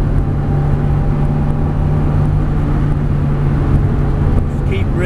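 Ferrari 360 race car engine droning steadily on track from inside the car, a constant loud tone with a coach's voice speaking over it throughout.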